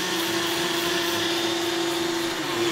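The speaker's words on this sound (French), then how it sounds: "Bon, ça va mixer les amis." Blender whirring steadily while mixing a drink, a constant high motor whine with a strong steady tone, close and loud throughout.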